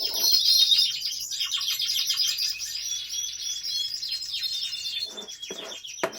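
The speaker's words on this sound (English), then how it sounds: "So there you go, the singing birds." Pet lizard canaries singing nearby, a continuous bright stream of warbling chirps and trills overlapping for several seconds, fading slightly toward the end.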